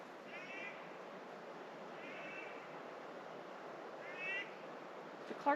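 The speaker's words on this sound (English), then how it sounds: "It's a Clark's nutcracker." Clark's nutcracker giving three short, harsh grating calls at a distance over steady rushing waterfall noise in Yellowstone, with a faint click near the end.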